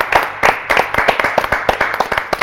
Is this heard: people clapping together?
yes